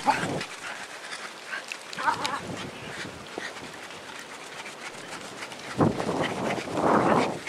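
Dogs romp and pant in the snow during a winter storm, with bursts of breathy huffing and scuffling, plus a louder rush of panting near the end and some faint talk in the background.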